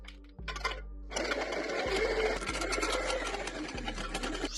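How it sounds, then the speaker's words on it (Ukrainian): A GRK 50 feed pellet mill (granulator) runs with a steady, loud mechanical drone and dense rattling whir, with a strong low hum and a few brief dips as the load shifts. No talking. "Відео по роботі гранулятора."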